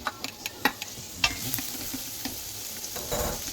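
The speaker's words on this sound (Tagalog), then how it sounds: "Ito mantika, lalagay po natin ang bawang or garlic." Garlic sautéing in hot cooking oil in a pan, a close, steady sizzle punctuated by scraping stirs and metallic clicks of the utensil.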